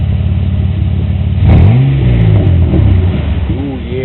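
A Chevrolet Cobalt with a rusted MagnaFlow exhaust, aftermarket fuel injectors and a throttle body spacer idles, then revs up loudly and falls back to idle, close by, with a voice briefly audible under the engine.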